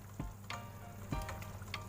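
Onion rings sizzling in a pan with tender beef for bistek tagalog, a steady close frying hiss with a few soft stirring knocks and bursts of spitting oil, no talk.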